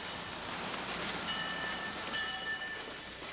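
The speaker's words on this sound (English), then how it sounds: "a real live turn-of-the-century wood-burning steam train was going through the Ozark Mountains" A turn-of-the-century wood-burning steam train on the Eureka Springs and North Arkansas Railroad in the Ozark Mountains, a faint distant rumble of rolling cars with a thin whistle tone sounding midway.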